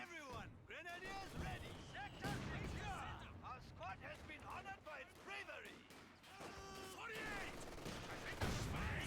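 Gunfire and explosive blasts from a World War II-style multiplayer strategy match, including bazooka shots aimed at a tank and an MG42 position, sounding as dense overlapping bursts and booms under near-constant commentary speech.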